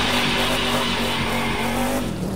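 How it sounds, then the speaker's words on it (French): A car drifts in the racing video game The Crew 2, a loud sustained engine roar blended with continuous tire squeal, dense and unbroken throughout. "là, j'ai tenté de faire un joli petit drift"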